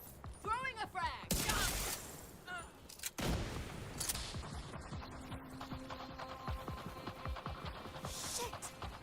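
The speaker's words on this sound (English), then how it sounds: "Throwing a frag." A frag grenade explodes in a video game amid bursts of gunfire, with sharp loud blasts early on followed by scattered shots and mechanical clatter, and faint voices at the start.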